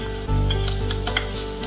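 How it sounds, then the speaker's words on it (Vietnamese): Minced garlic frying in hot cooking oil in a pan, a steady loud close sizzle with faint scraping stir sounds, and no voices. "đun nóng dầu ăn trong chảo, cho tỏi băm vào phi thơm"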